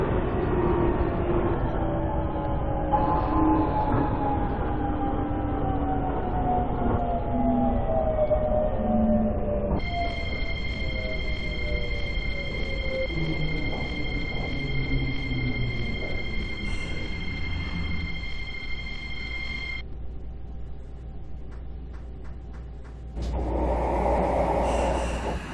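A Seoul Metro Line 1 subway train runs with a loud, steady rumble and rising and falling motor whine, heard from inside the car. A sustained electronic chime plays midway, and a burst of louder noise comes near the end.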